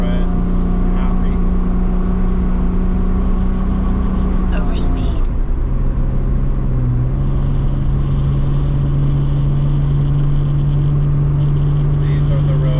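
A car drives along a curvy road, its engine note steady and continuous throughout, with small shifts in pitch as it works through the bends; a voice speaks intermittently over the engine.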